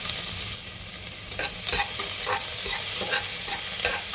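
Chopped large onions sizzle and fry in a pan of hot oil after mustard seeds have popped, with a steady hiss and repeated scraping stirs of a spoon for hotel-style sambar rice.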